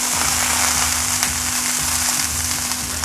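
Beef pot roast browning in a hot pan, a steady dense sizzle with low crackling that continues without pause, close and fairly loud, with a constant hum underneath.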